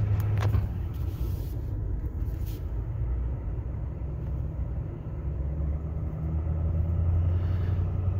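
A truck towing a trailer on a snowpack road, with the wheels breaking loose, gives a steady loud low engine and road rumble from inside the cab throughout, with a few brief knocks near the start.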